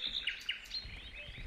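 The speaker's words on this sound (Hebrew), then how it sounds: "אולי ציפור." A bird calls outdoors with a few thin, quick chirps and whistles early on, faint and fairly distant over quiet background noise.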